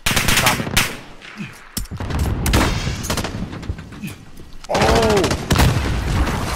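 Rapid gunfire bursts and a grenade explosion in a multiplayer shooter video game, loud and close, with repeated volleys and a heavy blast followed by more shooting and a short exclamation from a player.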